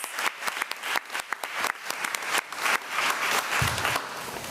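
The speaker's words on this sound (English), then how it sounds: "A round of applause as they take their seats" Applause at a regular board meeting as people take their seats, a close room full of sharp, irregular claps that thicken into a steady patter before thinning out.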